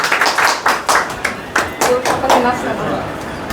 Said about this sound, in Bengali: একটু করজোরে হাততালি দিই সবার জন্য